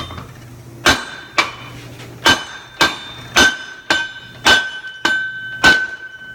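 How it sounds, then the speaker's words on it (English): A hammer strikes a wheel hub held in a vise with the brake rotor still attached: eight sharp, loud metallic blows, spaced roughly evenly with a faint ringing between them, and no talking. "So I'm gonna try to hit this hub right here."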